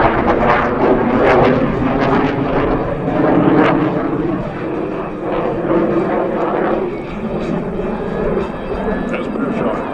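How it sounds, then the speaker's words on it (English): A US Navy F-18 Hornet flies a demonstration at an air show with a loud, roaring jet sound that surges and fades as it passes. A public-address announcer talks over the engine noise. "he will now demonstrate the F-18's extremely tight turning radius"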